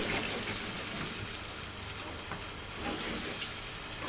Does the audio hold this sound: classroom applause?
no